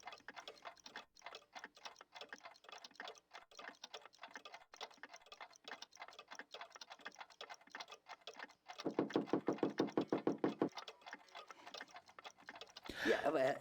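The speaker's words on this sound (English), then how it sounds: "Authentic Black Forest cuckoo clocks." A Black Forest cuckoo clock in Gabriel Knight II ticks quietly in a steady, even rhythm. A brief buzzing burst and a louder rattle near the end break in, and no one speaks.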